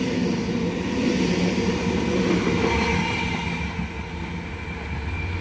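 A Kiama-bound suburban train, eight cars, rumbles loudly and steadily past Heathcote station platform 2, a continuous close roar of wheels and carriages that eases slightly toward the end.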